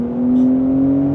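Porsche 911 Turbo S engine in Sport Plus mode, a steady close drone with a slowly rising tone under light throttle, brief and alone.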